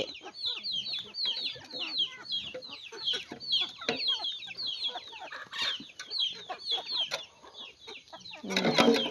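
A flock of chickens being fed in rural northeastern Thailand clucks and chatters continuously nearby, overlapping calls rising and falling, with a brief louder rustle near the end.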